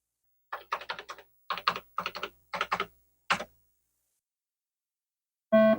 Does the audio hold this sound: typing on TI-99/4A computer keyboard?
yes